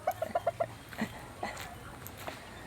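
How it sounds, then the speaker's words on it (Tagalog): Pet chickens kept in a backyard coop in Cabanatuan City, Philippines, give a quick run of five soft clucks, then a few scattered faint calls. The sound is quiet and close, with no talk. "Ayan po ang mga alaga naming manok."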